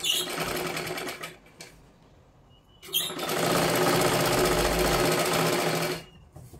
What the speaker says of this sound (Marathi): हे अशी मारा आणि 5 नंबरची शिलाई मारून घ्या तिथे